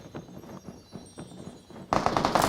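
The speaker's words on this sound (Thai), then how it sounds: "เสียงปืนข้างหน้านะ" Gunfire in the PUBG Mobile battle royale game, a series of muffled distant shots popping at irregular intervals, followed by a louder burst of rapid fire near the end.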